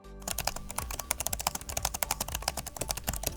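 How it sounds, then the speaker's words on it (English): Fast, loud clicky typing on a Cherry MX mechanical keyboard of an Alienware x16 R2 laptop, a dense stream of sharp key clacks close to the listener with no talking. "If you get the Cherry MX keyboard, it is a clicky keyboard and it is loud."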